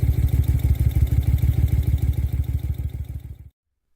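A 1972 Moto Guzzi motorcycle rides along in cold weather, its engine a loud, close, steady pulsing throb with rhythmic clatter, continuing until it cuts off abruptly near the end.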